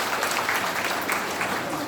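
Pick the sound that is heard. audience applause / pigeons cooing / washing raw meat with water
audience applause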